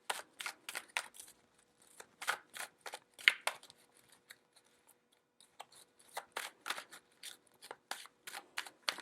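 Tarot cards being shuffled by hand, a run of crisp riffling bursts in irregular rhythm with short pauses, close and fairly quiet, with no talking.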